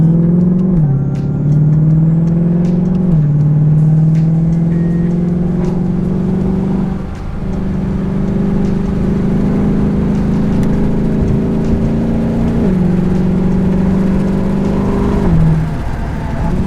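A supercharged Ford Mustang GT accelerates hard with tires hooking, its loud engine pitch climbing through each gear with distinct dips at the shifts, heard close and continuous for the whole run.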